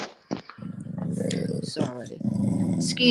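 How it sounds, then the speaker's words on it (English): A dog gives a deep, rumbling, lion-like growl in long sustained bursts close to the recorder, while a person speaks briefly over it. "No, it's my dog growling."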